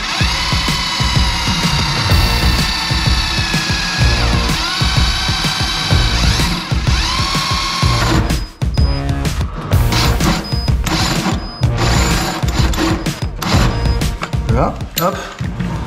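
A hole saw on a power drill cuts a starter mark in a workshop, a loud continuous grinding whine for several seconds that then breaks into choppier, uneven bursts as the bit catches, with voices at times.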